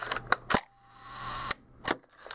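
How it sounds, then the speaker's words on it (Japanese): A Hasselblad medium-format camera body fitted with a Sonnar C 250mm f/5.6 lens fires its shutter at a one-second speed, a sharp mechanical clack opening and a second clack closing about a second later, with quiet handling clicks around them. "シャッターは低速の1秒から見ていきましょう"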